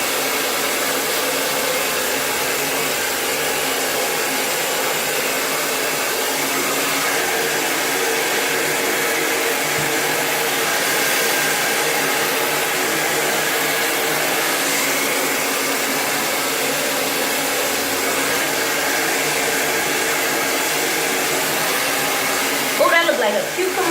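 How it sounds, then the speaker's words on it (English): A blow dryer runs steadily on natural thick hair, a constant close, loud whoosh that holds for the whole stretch, with a brief change in tone near the end. "What I'm doing is just drying out the hair on my scalp and feeling for any cool areas."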